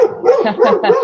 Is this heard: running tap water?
no